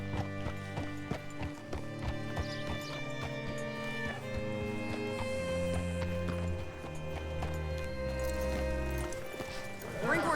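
Horse hooves clip-clop at a steady walking pace in the video game Red Dead Redemption 2, heard over sustained background music, fairly close and even throughout.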